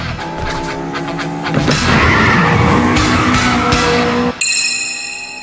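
A racing car engine roars at high revs as tires squeal and skid loudly, ending abruptly with a brief cut to a higher tone.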